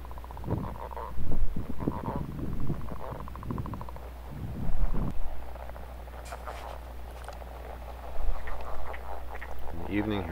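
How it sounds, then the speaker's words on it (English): A male leopard frog calls in repeated low croaking bursts during the day, fairly close, with gaps of quiet pond ambience between them and a voice speaking partway through. "There's a leopard frog male calling during the day."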